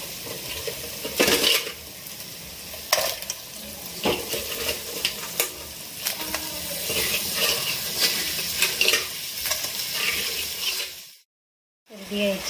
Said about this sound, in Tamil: இப்போ நண்டை போட்டுடலாம்.